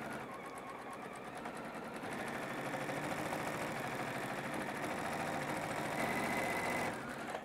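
A sewing machine stitches quilt rows with fabric stars, running in a steady rapid mechanical whir that holds continuously and speeds slightly near the end, close and alone with no talk.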